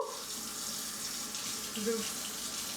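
Cold water runs steadily from a kitchen sink tap, a continuous close hiss of flowing water with no talk over it.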